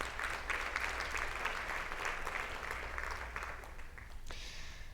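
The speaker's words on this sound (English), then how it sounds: "I think that deserves a round of applause." Audience applause at a FIFA women's football symposium session, a steady, fairly distant wash of clapping from a large hall that holds evenly and then thins out toward the end.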